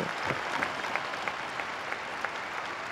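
Applause from a large crowd after the Pope's blessing at the Angelus, a steady dense wash of clapping with scattered sharper claps throughout, moderately distant and continuous.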